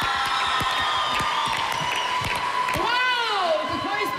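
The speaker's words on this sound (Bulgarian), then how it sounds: "Аплодисменти, моля!" Studio audience applause on Bulgarian X Factor, sustained clapping and cheering from a crowd, with voices calling out and talking over it.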